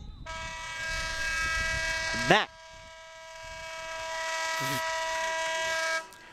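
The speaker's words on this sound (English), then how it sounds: "And that very loud horn means the end of the third quarter" A very loud, sustained electronic horn marking the end of the third quarter at a boys' lacrosse game blares for several seconds, briefly broken by a short burst of crowd noise, then continues until cutting off.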